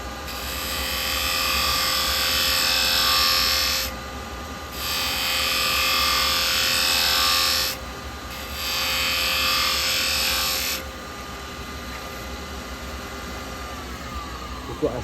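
A spindle gouge cutting wood on a lathe gives a loud, continuous hissing shear over the motor's drone, broken by a few brief pauses before the tool lifts away and only the spinning lathe remains.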